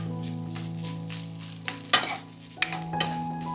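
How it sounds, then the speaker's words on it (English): Chicken fried rice stir-frying in a pan with spring onion: continuous sizzling under repeated scraping strokes of a utensil, a few sharper louder scrapes near the end, close and without speech. "Stir fry for 3 to 4 minutes."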